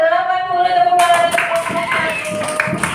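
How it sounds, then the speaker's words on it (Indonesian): A class group applauds in a school lesson. Several pairs of hands break into clapping partway through and keep going steadily, following a sustained tonal sound at the start. "Tepuk tangan."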